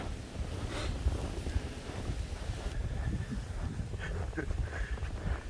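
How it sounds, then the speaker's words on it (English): Wind blows steadily during a snowstorm with about three feet of snow, a continuous low rushing roar with buffeting against the microphone and no clear voices. "See, it's windy."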